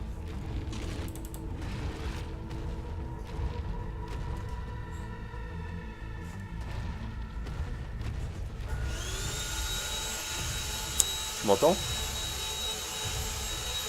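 A household vacuum cleaner switches on partway through, adding a loud steady whine and hiss over game sounds, while someone speaks briefly near the end.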